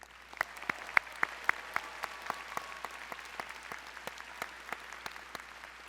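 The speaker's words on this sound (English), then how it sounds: "let's cheer all of the people in your network who helped you accomplish what" A master's commencement audience claps in scattered, sharp individual hand strikes that form a sparse, uneven rhythm, fairly faint and without voices.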